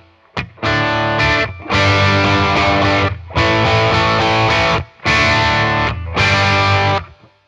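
Distorted electric guitar through a Boss Katana amp playing a classic rock rhythm, loud chugging chords in four sustained bursts separated by short gaps, alone without talk.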